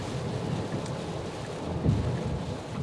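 Heavy rain drums steadily on a Tesla Cybertruck while it drives, a dense continuous wash with low rumble throughout, no talking.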